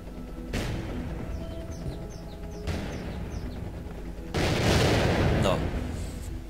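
In Worms 4, a wizard's heavy weapon strikes the player with deep, booming blasts, two or three impacts rolling over a dense game soundscape, the loudest and fullest arriving near the end.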